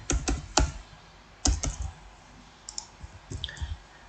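Short runs of close, crisp clicks from a computer keyboard come in quick bursts with pauses between them, typing a PHP logout file.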